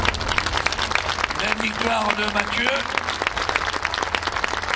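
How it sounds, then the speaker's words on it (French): Crowd applause at the Lohéac 2015 rallycross finals for the Division 3 winner, a steady wash of clapping that runs through the whole stretch under a commentator's voice over the loudspeakers. "Je vous demande de les applaudir."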